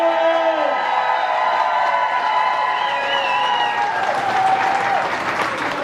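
Wedding guests applaud the newly introduced couple, Karla and Justin, with steady loud clapping mixed with cheers and whistles, the clapping growing denser toward the end.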